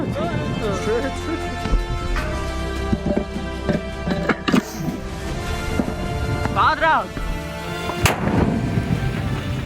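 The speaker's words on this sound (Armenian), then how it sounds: "Մեկ մարդու նման ականանետը մարտի են բերում, լիցքավորում։" Soldiers operate a mortar during a firing drill, with several sharp, loud reports and booms spread across the stretch under busy background noise and voices.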